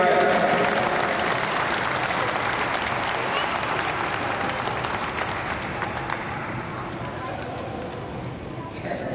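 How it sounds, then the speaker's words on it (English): A dense round of audience applause during a gathering beside the historic Thatcher Perkins locomotive on a turntable, steady and full for about nine seconds and tapering slightly, with voices mixed in. "All right, another round of applause."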